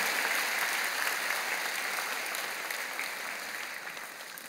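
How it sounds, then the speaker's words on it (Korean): A church congregation claps to welcome a new pastor and a new evangelist during a Sunday worship service, producing a steady, dense wash of applause that gradually fades over a few seconds. "여러분 크게 박수로 환영하시지요"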